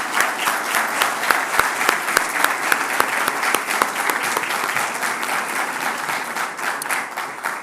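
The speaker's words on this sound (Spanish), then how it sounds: "Por favor, démosle un caluroso aplauso de bienvenida." Loud, sustained welcoming applause from a large university audience in Monterrey greets an invited guest. Many hands clap together in a thick, continuous wash that holds steady and then eases slightly toward the end.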